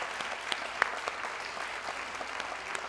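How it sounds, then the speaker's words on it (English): Audience applause in a TEDx event hall at Grand Canyon University for the first act's speakers and performer, steady dense clapping throughout with a few sharper individual claps standing out. "can we just give a round of applause?"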